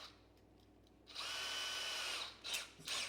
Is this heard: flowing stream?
no